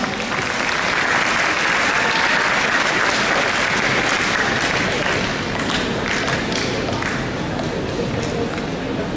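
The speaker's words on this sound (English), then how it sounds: "Please welcome him with a round of applause." Dense, steady applause from an audience at a volleyball tournament opening ceremony, loud and continuous throughout with scattered sharper claps and faint crowd murmur underneath.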